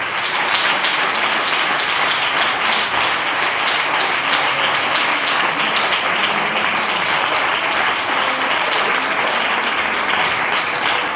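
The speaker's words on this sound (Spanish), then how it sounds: "Den un aplauso al Señor." A church congregation applauds steadily and loudly, a dense, unbroken wash of many hands clapping that holds for the whole stretch with no talk over it.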